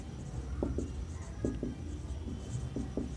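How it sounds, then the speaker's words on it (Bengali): A pen writes on paper, with short scratchy strokes in quick clusters, soft and close, against a faint hum of room noise. "এখানে লিখছি আগে"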